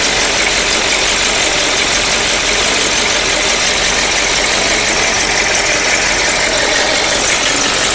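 A loud, steady engine of a 1956 Cadillac Sedan DeVille idles close by, rumbling with a rough, uneven knocking texture throughout, with no voices.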